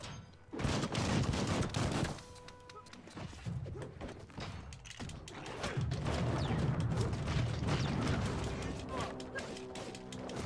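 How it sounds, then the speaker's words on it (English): Video game gunfire in dense bursts and crashes, loud and chaotic through most of the clip, with a brief lull near two seconds before the shooting and clatter build again. "Whoa, someone's shooting me. Stop shooting me."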